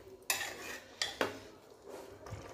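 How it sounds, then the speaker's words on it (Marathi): A spoon clinks and scrapes against a pot as khichdi is gently mixed after a squeeze of lemon. Three sharp metallic knocks ring out close by, with no talking. "परत अलगद असं थोडं मिक्स करून घ्यायचं।"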